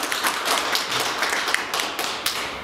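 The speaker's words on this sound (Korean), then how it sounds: "박수 부탁드립니다." An audience applauds at a filmmakers' day ceremony held by the Korean Film Association's Jeonbuk branch, with steady, dense clapping from many hands at moderate distance and no voices over it.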